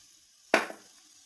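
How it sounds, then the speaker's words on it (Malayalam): Beaten egg poured into a hot pan hits with a sudden sharp sizzle that quickly fades to a soft crackle, brief and close in an otherwise quiet kitchen. "ഇനി വേണം നമ്മളിവിടെ കലക്കി വെച്ചിരിക്കുന്ന മുട്ട അതൊഴിച്ച് ഞാൻ ഒഴിച്ചെടുക്കുക"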